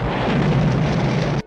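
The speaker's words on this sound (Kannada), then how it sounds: "ಇನ್ನೇನು ಬಾಂಬ್ ಬ್ಲಾಸ್ಟ್ ಆಗುತ್ತೆ." A bomb blast sound effect: a loud, sustained explosive roar lasting over a second, then an abrupt cut to near silence.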